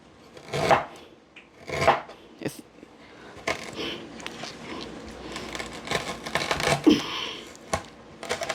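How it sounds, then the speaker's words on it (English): Fresh ginger being cut with a knife on a board: a series of firm, irregular chops and thuds up close, some quicker scraping strokes in between, no talking. "So I like to cut up my ginger. I cut it up just like this."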